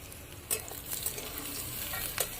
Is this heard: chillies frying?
yes